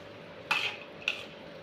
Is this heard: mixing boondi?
yes